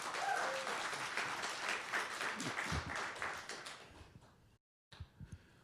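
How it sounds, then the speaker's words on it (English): Audience applause for Steph Lewis at a financial literacy competition awards event, a steady round of clapping that thins out toward the end, cuts briefly to silence, then returns with a few scattered claps. "Give another round of applause for Steph Lewis."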